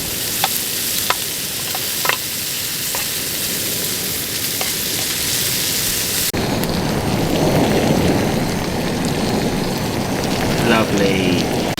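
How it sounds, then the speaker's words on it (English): Hail pattering down outside during a carp fishing trip, a dense hiss of many small impacts that grows louder and heavier partway through, with scattered sharper ticks standing out. "It's almost snowing out there now. Hail."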